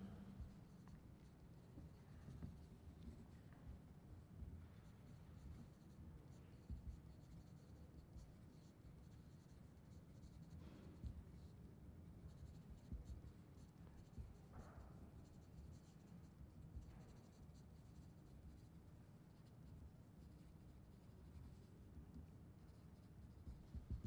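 Pencils scratch on paper during a silent preparation period at a formal debating event, producing faint, continuous scribbling with small taps and rustles and no talking.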